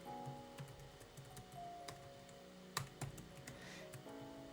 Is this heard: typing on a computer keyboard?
yes